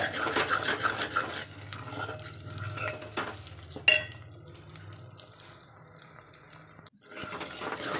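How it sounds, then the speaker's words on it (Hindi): Edible gum (gond) roasts with wheat flour in a pan, heard as continuous raspy scraping and rubbing of stirring, with one sharp clink midway and a brief pause near the end. "आटे के संग में गोंद को हमें भुन लेना है और आटे के संग में गोंद हमारी अच्छे से फ्राई हो जाएगी"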